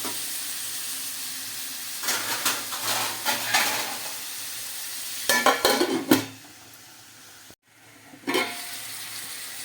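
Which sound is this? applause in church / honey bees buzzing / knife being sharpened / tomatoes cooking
tomatoes cooking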